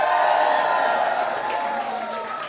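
A crowd cheering and applauding at a victory speech after a US Senate primary win in Maryland, a loud, steady wash of claps and cheers that slowly tapers off.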